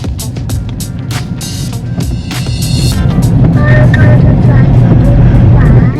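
A car pulls away after its parking brake is released, a close engine and rolling hum that rises steadily in level, with a few sharp clicks and knocks early on.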